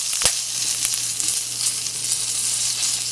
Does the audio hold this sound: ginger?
yes